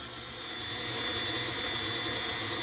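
Electric mixer beating whole wheat bread dough on low speed, a steady close motor whir that builds slightly and then holds even throughout.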